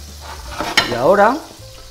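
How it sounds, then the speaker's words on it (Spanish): Onion going into a pan to fry for a pork rib stew, a brief scrape and stir followed by a short sizzling swell that fades within two seconds. "vamos a sofreír la cebolla"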